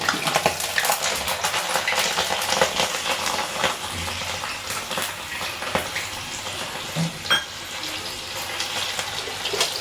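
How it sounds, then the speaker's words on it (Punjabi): Green chillies fry in hot oil with a dense, continuous crackling sizzle that stays loud and close throughout, with no talking over it. "ਤੇਲ ਗਰਮ ਹੋ ਗਿਆ ਇਹਦੇ 'ਚ ਆਪਾਂ ਫਰਾਈ ਕਰਨੀਆਂ ਨੇ ਹਰੀਆਂ ਮਿਰਚਾਂ"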